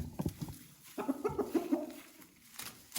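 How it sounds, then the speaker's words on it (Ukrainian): An Araucana rooster, a breed whose hens lay blue eggs, clucks and grumbles softly in a few short bursts amid faint farmyard background noise. "Півник який."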